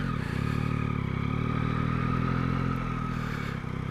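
A Yamaha MT-09 motorcycle rolling past at steady speed, a continuous close engine drone with wind rush, holding level before easing slightly at the end.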